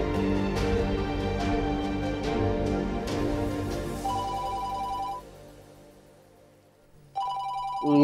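A phone rings repeatedly in a looping electronic ringtone, stops for a moment of near silence, then starts ringing again.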